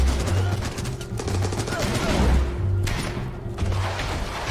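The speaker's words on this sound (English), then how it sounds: "Oh shoot, I got hit by a lot of rockets right there." Rocket and gun impacts strike a vehicle in the war game Running With Rifles, a rapid cluster of thuds and bursts with loud fire and booms in quick succession, a voice briefly audible beneath.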